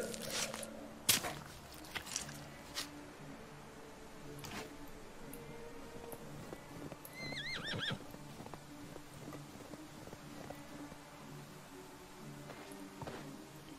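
A horse in the medieval survival game Medieval Dynasty whinnies briefly at moderate distance amid faint in-game clatter and scattered clicks, with no speech.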